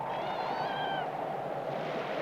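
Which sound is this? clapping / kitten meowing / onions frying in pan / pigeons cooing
kitten meowing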